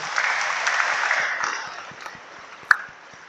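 A crowd at a religious dharma assembly claps together in a dense burst that tapers away after about a second and a half, leaving near quiet broken by one sharp click.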